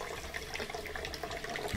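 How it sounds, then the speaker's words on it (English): Leftover water trickles and splashes steadily out of an opened drain tube on an LG washing machine, close and continuous at low level. "I'm going to open up this tube and let any water that's left"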